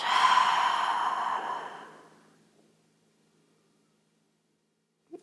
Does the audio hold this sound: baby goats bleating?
no